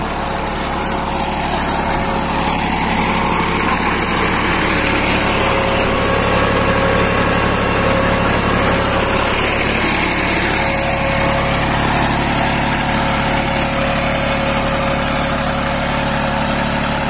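A Massey Ferguson 244 DI Dynatrack 4x4 tractor engine runs steadily at a constant idle, a continuous mechanical drone with a buzzing vibration and no voices.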